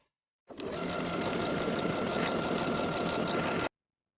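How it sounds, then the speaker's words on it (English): A sewing machine stitching buttonholes on a blouse placket, a steady fast mechanical whirr that starts abruptly, runs at an even pace for about three seconds close by, then stops dead. "Now I'll sew the buttonholes in place."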